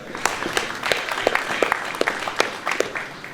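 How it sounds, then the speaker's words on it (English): Scattered applause from a modest audience at a boxing press conference launch event in Riyadh, with sharp individual claps spread across the room and no talking over it. "Can we please get a round of applause for our brilliant MCs today?"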